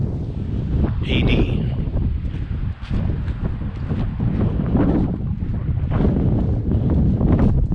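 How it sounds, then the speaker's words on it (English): Strong wind buffets the microphone in the Arizona desert near Pueblo Grande, a loud continuous roar with gusty surges throughout. "Usually just isn't this windy in the Valley of the Sun."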